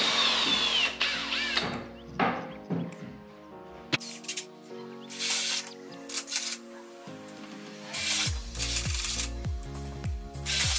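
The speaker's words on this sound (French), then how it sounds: "On va faire les petits trous à la scie cloche." Bursts of power drilling with a hole saw, a whirring, grinding tone, stopping and starting several times amid music and clattering.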